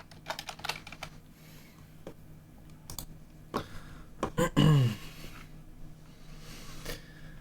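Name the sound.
loud computer keyboard typing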